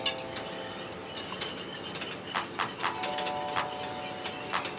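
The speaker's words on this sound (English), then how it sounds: "start stirring, adding a little milk" A spoon stirs butter, flour and milk together in a pan for a white sauce, giving soft repeated scraping and swishing strokes close by with occasional clinks, and no one speaks.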